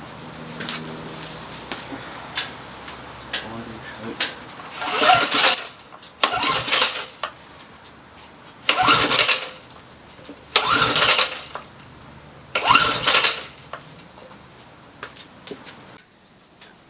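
A Briggs & Stratton 3.5HP small engine is cranked about five times in separate loud bursts, each turning over briefly and dying away without catching, with quiet gaps between the attempts.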